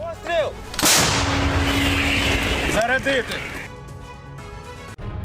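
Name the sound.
M777 howitzer artillery firing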